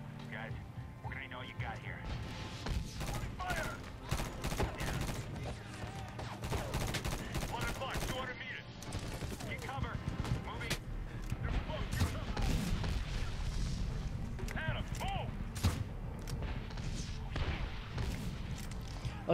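Light machine gun fire in the Medal of Honor video game, loud, dense bursts of rapid shots rattling almost without pause over nearly twenty seconds, with voices mixed into the battle noise.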